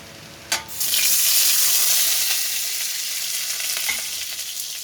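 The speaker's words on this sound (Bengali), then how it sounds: "টমেটো কুচি দিয়ে খুব ভালো করে নাড়িয়ে নেব" Steady loud sizzling as chopped tomato fries in a hot pan, with a sharp clatter near the start and faint stirring scrapes throughout.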